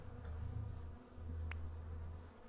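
Bees buzz in the beekeeping game Hive Time, a low, steady droning hum that swells and dips over a couple of seconds, fairly faint and close, with a brief click partway through and no talk.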